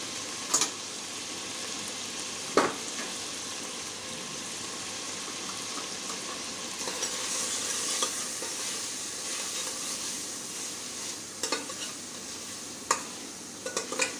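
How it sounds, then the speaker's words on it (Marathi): Spices frying in a pan for a Maharashtrian vegetable curry sizzle steadily up close while a spoon stirs and scrapes, with occasional sharp clinks against the pan over the constant hiss. "छान मिक्स करून घ्यायचं आहे."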